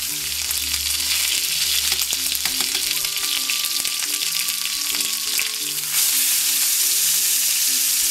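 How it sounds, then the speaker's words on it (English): Thick cut of good-grade tuna searing in a hot pan, giving a steady, close sizzle and crackle that runs unbroken throughout, swelling slightly louder near the end. "I like that sear. Let it sear."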